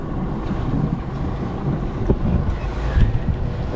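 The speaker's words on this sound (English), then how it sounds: "We have 9 knots of wind." Wind blowing across a sailboat leaving anchorage in about nine knots, a steady broadband rush with microphone buffeting mixed with water sloshing against the hull and a few louder gusts, no talk.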